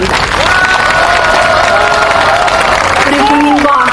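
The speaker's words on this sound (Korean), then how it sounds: "우리 국민들 그렇다고 한다면 박수 한번 쳐주시기 바랍니다." A large crowd at a June Uprising commemoration rally applauds and cheers loudly and continuously, with shouted voices rising above the clapping for four seconds.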